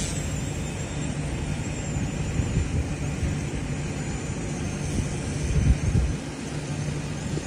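A 1/34-scale UH-1 Huey RC helicopter lifts off outdoors with a steady, moderately loud whirring drone of its rotor and motor, holding an even level for several seconds with a slight swell near the end and no talk.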